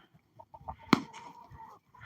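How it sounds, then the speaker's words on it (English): A few soft clucks, then one sharp, loud squawk from a chicken close by, followed by quieter murmuring clucks. "chickens. Chicken breeding."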